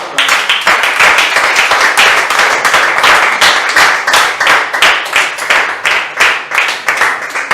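A church congregation gives loud, close applause in quick, distinct claps with a rhythmic pulse, sustained without pause across the whole stretch.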